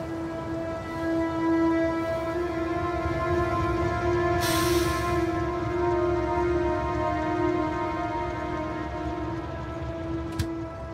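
A train runs in the video game Factorio, a sustained steady mechanical hum with strong even tonal layers, a brief burst of hiss midway, heard alone without talk.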